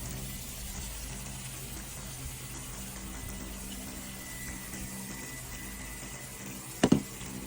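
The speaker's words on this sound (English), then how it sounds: "If I mix the gland at all, I usually rinse it off." Water running over a freshly processed meat chicken to rinse off the gland area: a steady close stream hiss like a tap or hose, ending in a brief pair of loud knocks, with no talking.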